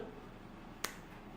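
A single crisp finger snap cracks once in an otherwise quiet room, close and sharp, with nothing else around it.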